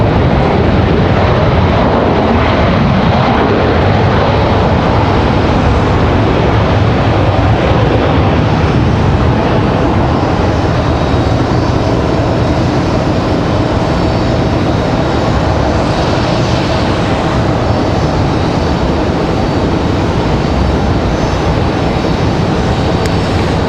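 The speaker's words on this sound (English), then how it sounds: "Nice touchdown for the A319." Airbus A319 airliner landing at Raleigh-Durham International Airport, a continuous loud roar of engines and rushing air lasting the whole stretch without a break.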